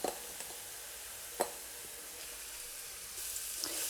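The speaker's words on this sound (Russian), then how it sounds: "Обжариваем лук до слегка золотистого цвета." Onion and carrot fry in a pan with a soft, steady sizzle, close but quiet, broken by a couple of faint clicks of stirring and no voices.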